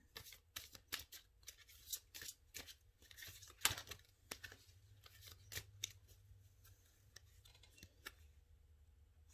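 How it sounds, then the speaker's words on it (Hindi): Tarot cards being shuffled by hand, a quick run of soft papery riffles and flicks with short pauses, close and fairly quiet with no talking. "इसको शफल कर लूं।"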